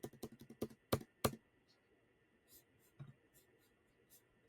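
Quick clusters of close, crisp key taps on a computer keyboard while editing CSS code, including repeated backspace presses, then fading to a few scattered soft clicks under faint quiet speech.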